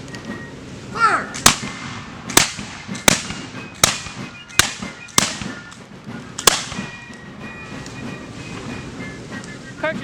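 Flintlock muskets fired by file by a reenactment company dressed as 1777 Marine militia, seven sharp cracks going off one after another at uneven gaps of about a second, loud and outdoors, each leaving a brief echo.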